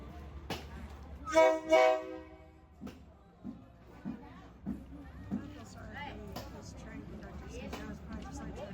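A loud vehicle horn blares twice in quick succession in Bangkok traffic, followed by softer scattered thumps and a low engine hum under distant voices.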